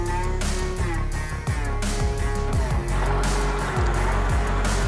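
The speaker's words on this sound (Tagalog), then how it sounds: "pandarin ko na yung makina kasi malakas na yung battery voltage" A Caterpillar D8R bulldozer's diesel engine turning over and catching, with a loud, heavy low rumble and repeated mechanical thumps and whines, close by and continuous throughout.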